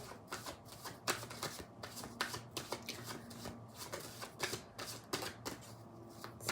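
Tarot cards being shuffled by hand, a series of crisp riffling bursts and soft slaps in an irregular rhythm, close and quiet with no talking.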